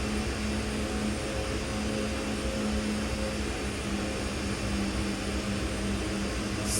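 A CRJ-200 jet rolls down a runway on its takeoff run in a flight simulator. A steady, loud engine roar with a droning tone holds at constant level throughout, with no talk over it.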